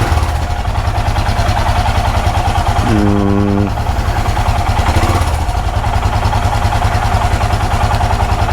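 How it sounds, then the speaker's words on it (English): A motorcycle engine idles steadily on a cold morning start, its low rumble continuous and close, with a couple of gentle throttle revs briefly lifting the pitch around the middle. "So some gentle revs for the cold start in the morning"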